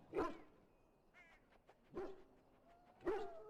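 Injured dog in Dragon Age: Origins whimpering and yelping in three short, whiny bursts, each fading, with quiet gaps between them.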